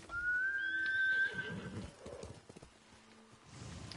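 A horse in Ghost of Tsushima gives one loud, drawn-out whinny, followed by a few clip-clopping hoofsteps that fade to quieter shuffling movement, heard close and alone.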